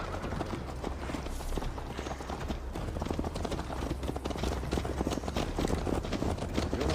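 Horse hooves gallop at a steady, rapid beat in Assassin's Creed Valhalla, a dense, continuous thudding under a low rumbling ambience with no talk.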